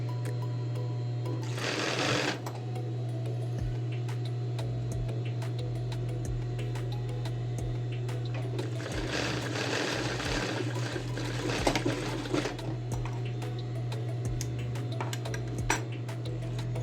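A sewing machine stitches a blouse yoke onto the front piece at a 1 cm seam, running steadily with a fast rhythmic clatter and a constant motor hum through two louder stretches.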